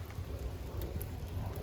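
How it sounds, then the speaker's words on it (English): Light rain begins falling outdoors beside a backyard smoker, a soft, steady patter with faint low rumble underneath and occasional sharper drips, quiet and continuous with no talking. "Of course, it's starting to rain"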